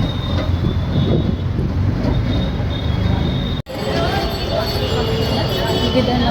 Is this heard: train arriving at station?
yes